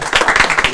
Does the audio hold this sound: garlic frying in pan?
no